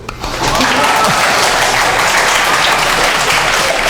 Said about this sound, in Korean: 앞으로 오는 사람 좋아. 박수.